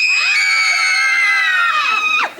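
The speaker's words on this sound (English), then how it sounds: "That was all three girl assistants screaming at once." Three women scream together in a single long, loud, piercing shriek that holds steady before breaking off sharply at the end.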